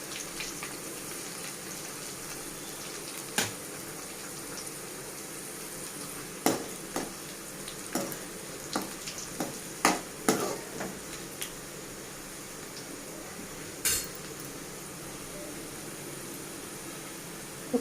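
Cumin, fenugreek, mustard seeds and dry red chillies fry in hot oil as a tempering for Telangana-style raw mango pachadi: a soft, continuous hiss broken by scattered sharp pops and crackles, with no voices.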